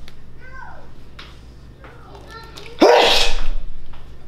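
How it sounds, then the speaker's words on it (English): One loud, sudden sneeze bursts out near the end, close and sharp, after a few seconds of quieter chirpy voice sounds. "Oh no, he sneezed."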